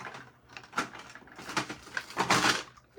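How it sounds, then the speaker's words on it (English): A sticking wooden drawer is tugged open in a series of uneven scraping, rubbing pulls, several jerky bursts that grow louder toward the end, close by and with no voices. "You guys ever have drawers that stick?"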